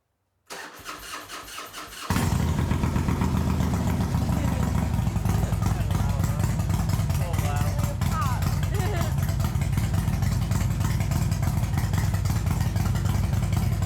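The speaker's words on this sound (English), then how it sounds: "I just put a cam, it's a racing cam in the engine. That's why it's so loud." Up close, a Harley-Davidson motorcycle engine fitted with a racing cam cranks and fires, then settles into a loud, choppy, lumpy idle that keeps rumbling steadily.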